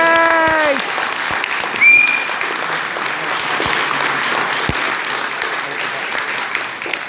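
Audience members at a political debate on post-16 education break into sustained, dense clapping right after a candidate finishes speaking, steady and fairly close for several seconds.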